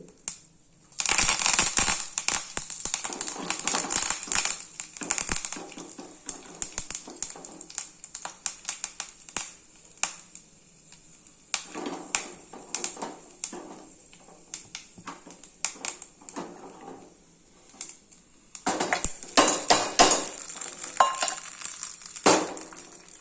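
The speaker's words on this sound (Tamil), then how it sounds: "கடுகு பொரியுது" Mustard seeds splutter and pop in hot oil in a pan while tempering for a street-style tomato onion chutney, dense crackling bursts that come and go, loud at first, quieter in the middle and flaring again near the end.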